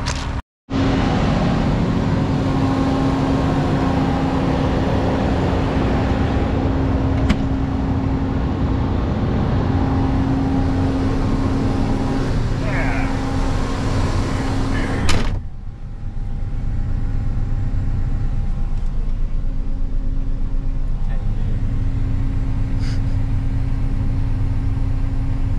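A brand-new 2023 CLAAS Lexion 8700 pre-series combine harvester runs close by with a loud, steady engine drone and a strong low hum, broken by one sharp knock near the middle before the drone carries on.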